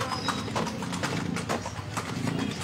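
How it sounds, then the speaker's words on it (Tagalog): A horse pulls a kalesa carriage along a street in Vigan, Ilocos Sur, its hooves clip-clopping in a steady, close rhythm over a continuous rumble of wheels and surrounding street noise. "So, andito kami. Sakay kaming kalesa."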